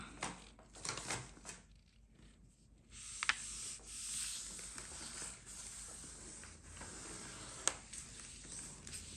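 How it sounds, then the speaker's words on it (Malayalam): A sheet of paper being creased and folded by hand for a large DIY paper star, with soft rubbing and scraping strokes, faint and close, broken by a few sharp crinkling snaps. "മാർക്ക് ചെയ്തിട്ട് കെയർഫുള്ളായിട്ട് നമുക്കിങ്ങനെ ഫോൾഡ് ചെയ്തെടുക്കാം"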